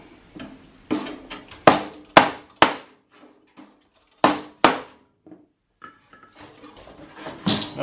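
Sharp metallic hammer blows ring out on the sheet-metal grill of a Farmall Super A tractor during dent repair, coming in irregular clusters of close, loud strikes separated by short pauses.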